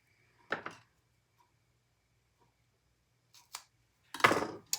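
A few separate snips of scissors cutting strap material for a small crossbody bag, quiet and close, with long pauses between cuts and a final longer crunching cut.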